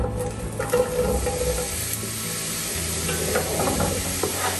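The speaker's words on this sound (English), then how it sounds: "As the butter has melted, we're going to add the onion." Onion going into melted butter in a pan for Hungarian goulash, a close burst of hissing sizzle with stirring scrapes that settles into a steady fry, no talking.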